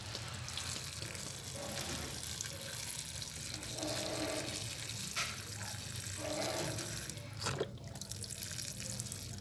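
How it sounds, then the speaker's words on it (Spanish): Water is poured into a container holding mango seeds, a steady trickling and splashing wash with small drips, fairly faint, with no talk over it. "Vamos a llenarla de agüita."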